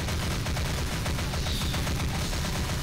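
Sustained, dense gunfire from the Critical Mass video game as players shoot at aliens, a steady loud crackling barrage with no pause and no voice over it.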